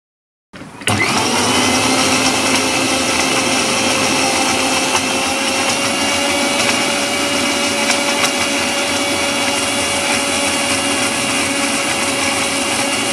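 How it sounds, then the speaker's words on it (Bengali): A kitchen blender whirs steadily at full speed, blending sugar and milk into a smooth paste for a milkshake; the motor starts abruptly and runs loud and constant throughout. "তো এবার এই সব উপকরণগুলোকে আমরা খুব ভালো করে মিক্স করে নেব।"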